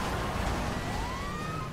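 A police car siren in the video game GTA 5 wails in a continuous rising sweep, loud and close over a dense rumble of game noise.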